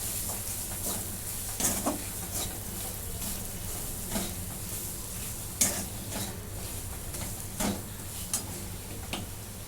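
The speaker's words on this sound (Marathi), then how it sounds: "कांदा लसूण मसाला थोडासा गरम मसाला आता हे मी परतून घेते" Onion-garlic masala with a little garam masala sautés in a pan, giving a soft continuous sizzle broken by the tick and scrape of a spoon stirring at irregular intervals.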